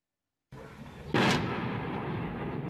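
A single heavy artillery blast from shelling in Donetsk breaks through low background rumble, followed by a long rolling, echoing boom that lingers at a distance.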